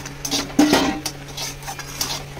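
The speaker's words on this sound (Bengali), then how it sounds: "দেখুন আমার এখানে চিকেনটা আমি ভাজা ভাজা করছি মশলার সাথে ভালো করে।" Chicken being fried and stirred with spices and salt in a pan for chicken curry, with a spoon clinking and scraping against the metal at close range over a steady low hum.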